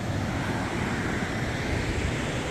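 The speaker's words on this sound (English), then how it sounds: "But this is Laurel Falls." Laurel Falls on the Appalachian Trail roars as a steady, dense wash of falling water, loud and close, with no pauses and no voices over it.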